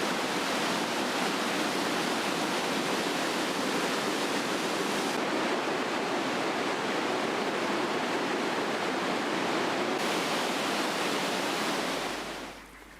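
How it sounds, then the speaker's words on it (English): The River Ure at Aysgarth tumbles over limestone strata in a loud, broad, continuous rush of falling water, steady and close, fading slightly at the very end. "Here at Aysgarth, the River Yoy tumbles over the limestone strata and then flows down into the wider areas of the dale."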